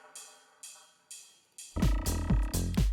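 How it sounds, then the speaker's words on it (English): Ride cymbal layered into a house music drop: sparse bright hits ring out alone at first, then the full beat slams in with heavy kick drums and a thick mix while the cymbal keeps shimmering on top, loud and close. "the first thing that you can do, and this is like a super classic house move, is just add a ride cymbal"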